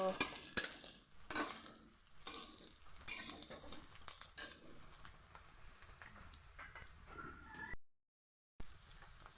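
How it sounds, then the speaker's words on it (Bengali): Onions frying in oil in a pan give a faint, steady sizzle with occasional scraping stirs, close by and quiet, with no one speaking. "এতে তেল তেলে পেঁয়াজ ভাজতেছি"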